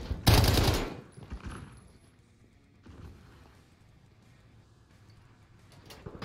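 A loud, close burst of rapid automatic gunfire from the Modern Warfare video game on PS4 lasts about a second, then fades into quieter in-game ambience with a few faint later thumps.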